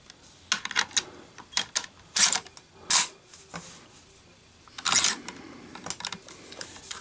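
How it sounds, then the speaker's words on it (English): Bolt being inserted into a Mosin Nagant M44 rifle, a series of sharp metallic clicks and sliding clacks, a few louder snaps among lighter rattles, close and isolated. "So let's put the bolt in."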